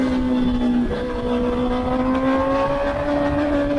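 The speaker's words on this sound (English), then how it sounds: "So accelerate hard out." A racing motorcycle on a track accelerates hard out of a corner, its engine note held loud and close as it climbs steadily in pitch, with strong wind and engine roar throughout.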